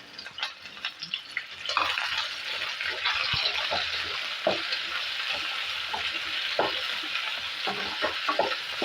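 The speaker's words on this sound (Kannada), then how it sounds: "ಟೊಮೊಟೊನೂ ಚೆನ್ನಾಗಿ ಫ್ರೈ ಆಗಬೇಕಿದು" Chopped tomato and capsicum sizzle steadily in hot oil in a pan, a constant hiss broken by the scrape and clatter of stirring.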